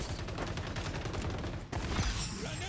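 An AK rifle in a video game fires in rapid automatic bursts, with dense, fast cracks of gunfire running almost continuously with only a brief pause.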